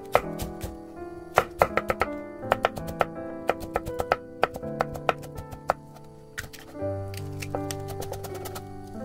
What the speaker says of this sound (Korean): 얇게 채 썰어줍니다